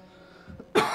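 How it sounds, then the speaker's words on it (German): A single sharp cough bursts out near the end after a brief quiet throat sound, loud and close over a faint background hum. "Ah, sorry, mein Husten."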